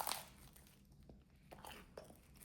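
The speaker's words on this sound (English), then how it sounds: "I want you guys to hear the ASMR crunch" A close, crisp crunch sounds as someone bites into a Taco Bell Crunchwrap, followed by a few softer crackling chews with faint crinkling, quiet and intimate with no talking.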